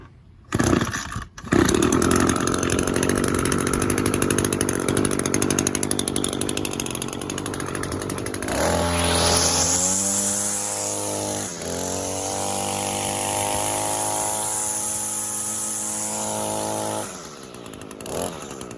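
Echo string trimmer two-stroke engine pulled and started, first a rough buzzing run, then a sharp rev climbing high and holding a loud steady whine before dropping back toward idle near the end.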